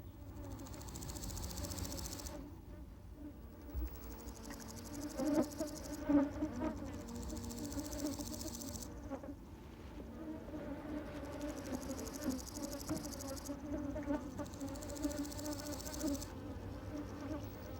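A bee buzzes steadily around Japanese iris flowers in a high mountain meadow at about 1,500 metres on Jirisan, a low droning hum that swells and dips as it moves close, with no talk.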